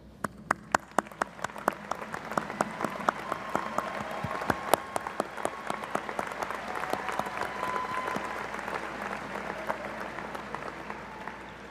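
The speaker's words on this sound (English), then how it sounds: "please join me in recognizing them with your applause" An audience at a college commencement ceremony applauds faculty and staff with sustained, even clapping that holds steady throughout and sounds moderately distant in a large hall.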